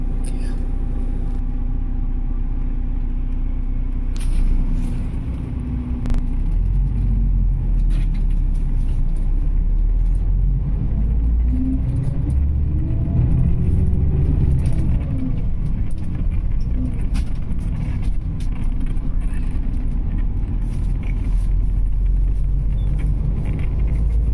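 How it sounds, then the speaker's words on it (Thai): A VIP bus engine idles at a red light at the Sam Yaek Wua Thale intersection in Nakhon Ratchasima, making a steady, low cabin rumble that holds even and continuous throughout. "ตอนนี้รถติดไฟแดงอยู่ที่สามแยกวัวทะเลครับ"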